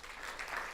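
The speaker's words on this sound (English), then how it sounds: "I would love you to clap if you know what a Speakers Bureau does" A room of people claps steadily in a brief burst of applause at a speakers' event, the sound dense and even throughout with no voices standing out.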